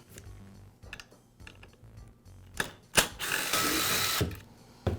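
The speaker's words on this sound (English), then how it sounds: "Now I can remove the exhaust guide." Ratchet clicks and tool handling while the exhaust guide comes off an Echo string trimmer during an exhaust gasket replacement: scattered mechanical clicks and taps, then a louder burst of rasping ratcheting near the end, with no talking.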